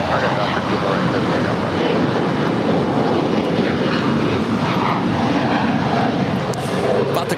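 An airliner takes off from runway 25 right at LAX, a steady, loud, broadband jet roar that holds for the whole stretch with no break.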